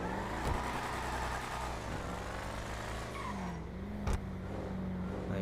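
A Bravado Buffalo STX, styled after a 2015 Dodge Charger SRT, drives in GTA 5 Online, giving a steady, close engine drone with a brief shift in pitch partway through and no talking.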